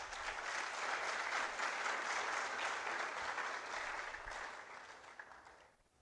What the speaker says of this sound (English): Shall we please give them a round of applause?